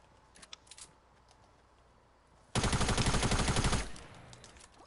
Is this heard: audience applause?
no